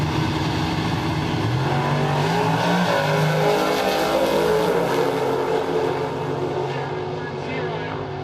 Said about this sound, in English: As we said, the big block Chevrolet Camaro up alongside.